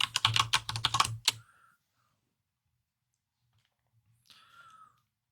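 A password is typed on a computer keyboard during a server log-on, a quick close burst of key clicks lasting about a second, then near silence with a faint later rustle.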